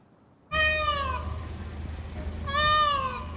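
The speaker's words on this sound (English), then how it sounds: "The sound of peacocks roaming freely around the Rolling Hills area is hard to miss in this Fairfield neighborhood." Peacocks roaming a Fairfield neighborhood give two loud, close, wailing calls, each rising sharply then trailing off, separated by about a second and a half of low background hum.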